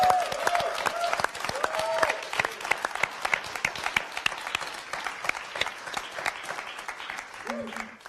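An audience gives a round of applause, a crowd of hands clapping in quick, crisp bursts close by, with a host's voice and other speech heard over and around it as it goes on.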